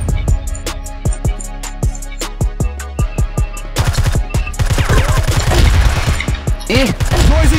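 Rapid, loud bursts of gunfire in a shooting video game, first evenly spaced single shots, then a dense flurry of overlapping shots and impacts.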